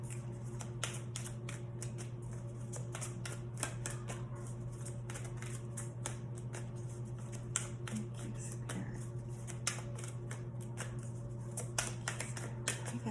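A deck of oracle cards is shuffled steadily and close up. Quick papery flicks and soft taps run continuously at a quiet level over a faint background hum.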